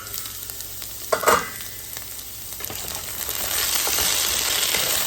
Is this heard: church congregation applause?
no